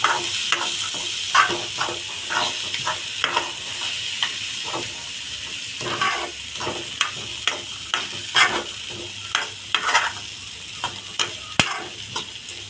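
A beetroot and dried pea stir-fry is stirred in a pan, giving repeated scraping strokes and clinks in an irregular rhythm over a continuous low sizzle, close and fairly loud.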